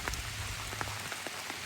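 Rain falls steadily outdoors by a lakeshore, a faint even hiss with scattered soft drops.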